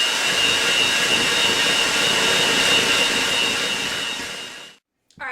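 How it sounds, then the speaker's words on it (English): An electric hand mixer whirs steadily through chocolate cinnamon cake batter, a loud, close, continuous motor drone that fades and then cuts off near the end, with no talking. "Now we're just going to use the hand mixer because it's easier."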